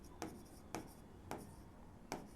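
Pen or chalk strokes tap and scrape in four evenly spaced, faint marks during a maths lesson on probability, with no voice over them.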